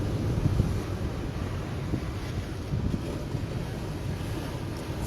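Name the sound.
ocean waves crashing on rocks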